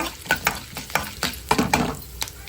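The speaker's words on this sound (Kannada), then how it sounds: "ಸ್ವಲ್ಪ ಸಾಸಿವೆ, ಕರಿಬೇವು, ಸ್ವಲ್ಪ ಉದ್ದಿನಬೇಳೆ, ಸ್ವಲ್ಪ ಕಡಲೆಬೇಳೆ. ಇದನ್ನ ನೀಟಾಗಿ ಸ್ವಲ್ಪ ರೋಸ್ಟ್ ಮಾಡಿಕೊಂಡು" Mustard seeds, curry leaves, urad dal and chana dal roast in hot oil, giving a bright crackling sizzle broken by repeated rhythmic scraping strokes of a ladle stirring in the pan.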